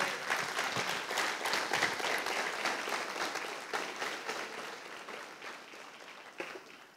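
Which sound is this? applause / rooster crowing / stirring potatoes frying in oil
applause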